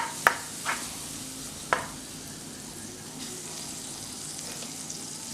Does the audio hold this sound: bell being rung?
no